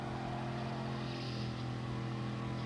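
A race car at full throttle in a racing game at Autodrome Lago Maggiore gives a steady, loud engine drone, holding one high sustained pitch with no let-up or gear change.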